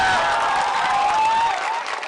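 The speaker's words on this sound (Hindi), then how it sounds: "ताली बजा दिए, ताली बजा ली।" A crowd at a Bihar political rally claps and cheers steadily, with a thin sustained tone over the applause, fading slightly at the end.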